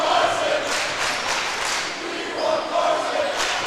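A basketball arena crowd yells and chants for a player named Carson to be put into the game, a loud, steady roar of many voices with rising and falling swells.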